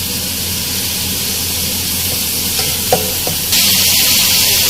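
Ground onion frying in butter for restaurant-style butter chicken, a steady broadband sizzle with faint scraping of a stirring spoon, rising slightly louder near the end; no talking.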